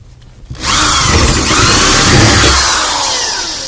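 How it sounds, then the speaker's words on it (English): A power drill fitted with a 1/4 inch bit bores out a rivet on a third-generation Firebird or Camaro window motor, spinning up after a brief pause into a loud, close, sustained grinding whine. "In there and drill that rivet out."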